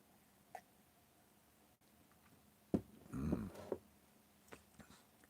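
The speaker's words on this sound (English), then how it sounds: "Hiccups." A single person's hiccup, one short sharp catch near the middle, faint room quiet around it, with a couple of small breathy sounds, no talk.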